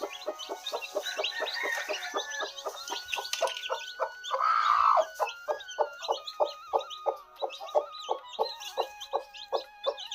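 A free-range village hen clucks in a steady repeated rhythm, close by, with a brief louder squawk partway through and faint peeps from her newly hatched chicks around her.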